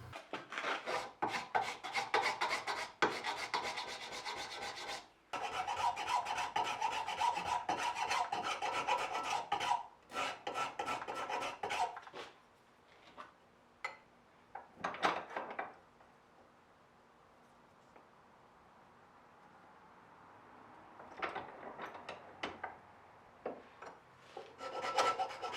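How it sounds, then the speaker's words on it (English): A kitchen knife blade being hand-filed to its final shape, with steady, close rasping strokes in dense rhythmic runs that pause briefly, then give way to sparser scrapes and a quieter stretch before filing resumes. "Some filing to bring it to the final shape."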